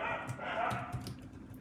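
Dogs bark in the background during a programming tutorial, a few short muffled barks over a steady hum, fairly faint and distant.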